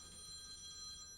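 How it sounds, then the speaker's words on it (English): A telephone rings with a steady, multi-tone electronic bell that holds for the whole moment, moderately loud against quiet background, with no talk. "That was my dad's phone."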